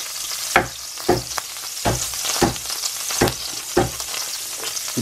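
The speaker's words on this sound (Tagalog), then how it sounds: "Para igisa natin yung" Onions sautéing in hot butter and oil for sisig, a steady close sizzle broken by regular scraping strokes of a spatula about every half second.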